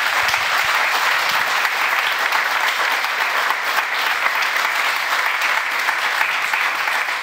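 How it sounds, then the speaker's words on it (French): Studio audience applauding a guest, Frédéric Marquet, joining the set of a French talk show: dense, steady clapping that holds at an even level throughout, with no voices over it. "Vous pouvez applaudir Frédéric."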